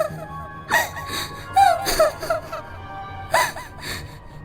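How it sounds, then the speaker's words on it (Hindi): Distressed crying in a Rajasthani witch horror story, heard as a few gasping, whimpering sobs in short bursts, close and fairly loud with no clear speech. "चलते चलते उसे किसी के रोने की आवाज आने लगी, जिसे सुनकर वो डर गई।"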